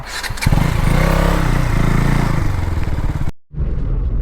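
A Suzuki Swift car engine catches and runs loudly and close with a rough, throbbing drone for about three seconds before the sound cuts off abruptly.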